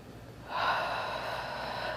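A long, heavy exhale during a springboard workout with a ball, rising sharply and holding steady for over a second, close and clear with no talking.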